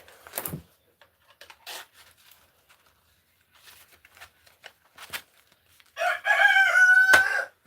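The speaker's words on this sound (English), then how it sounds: "This freaking rooster." A rooster crows once near the end, loud and close, a harmonic call lasting just over a second after scattered quiet rustles and clicks.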